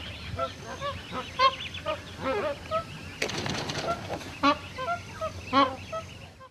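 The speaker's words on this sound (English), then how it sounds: "No Billabong is complete without magpie geese" Magpie geese at a billabong, a series of loud nasal honks repeating in irregular bursts, several birds calling near and far, with a brief splash or flurry midway.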